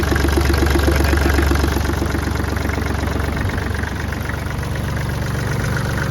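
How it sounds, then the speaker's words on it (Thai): A Kubota L3408DT tractor engine runs loud and close with a steady, rhythmic chugging rumble that continues without a break for the whole stretch. "พอเราเร่งเครื่องเพิ่มอีกมันจะทำให้ ไม่ได้ยินเสียงสั่น"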